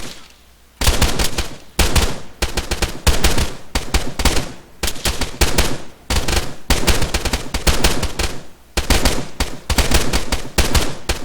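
Rapid, loud bursts of automatic gunfire at targets on a video game shooting range, firing in repeated volleys with only brief pauses between them.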